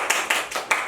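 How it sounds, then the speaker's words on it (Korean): Students clapping in a classroom, a few short bursts of hand claps at a steady rhythm, close and fairly loud, with no talk over them. "박수요."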